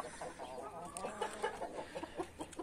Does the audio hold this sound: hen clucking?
yes